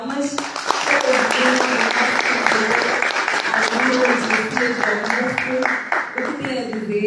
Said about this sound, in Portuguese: Uma forte salva de palmas para o